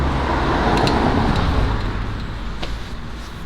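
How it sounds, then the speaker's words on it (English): Road traffic passes by, a broad roaring wash of car noise that swells and then gradually fades, with a few brief clicks and knocks over it and no voices. "Traffic is just terrible."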